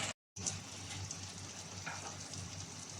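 Butter chicken pieces frying in a pan over a medium flame give a steady, close sizzle that runs through almost the whole stretch, broken only by a very short gap near the start.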